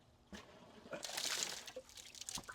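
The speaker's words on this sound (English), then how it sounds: "then we've got a 1-inch pipe that it's squirting water out" Water gushes and splashes from a 1-inch pipe fed by an air water pump, a faint, uneven surging spray that swells in the middle and trails off in spurts.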